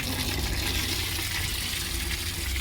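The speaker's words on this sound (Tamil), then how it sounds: "அடுத்து தண்ணி ரீஃபில் ஆயிரும்" Steady rushing water fills the whole stretch, a constant broadband gush like a tank or cistern refilling, loud and close with no pauses.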